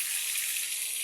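Onions frying in a pan for a spiced eggplant dish, a steady close hiss of sizzling oil that holds at an even level without pause.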